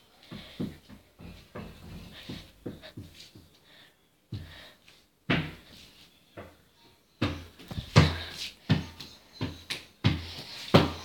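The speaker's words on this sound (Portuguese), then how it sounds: "Quem tá batendo?" Irregular knocks and thumps strike a door in a new house, sharp separate hits in uneven bursts that grow louder and closer together toward the end, with no wind and no talking.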